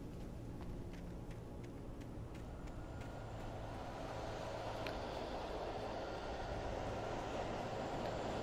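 Train at a depot in the video game Alan Wake Remastered, a low rumbling rail sound with faint rhythmic clicks, fairly quiet and steady with no talk.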